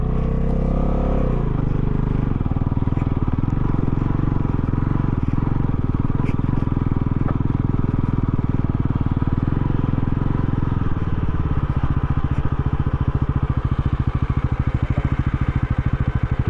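A motorcycle ridden up a small hill toward a hilltop temple viewpoint, its engine loud and close with a continuous steady drone and a slight shift in tone late in the ride.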